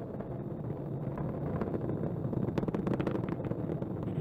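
A SpaceX Falcon 9 rocket's engines throttle up during launch, giving a dense, continuous roaring rumble laced with crackling bursts that grows slightly rougher toward the end.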